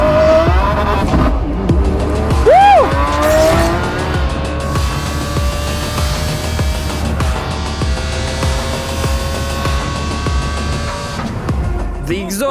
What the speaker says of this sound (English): The exhaust sound that will deafen you.